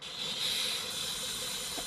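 Air brake on a MAN bus releasing a steady, sustained hiss while parking, fairly faint and unbroken for about two seconds with no talk.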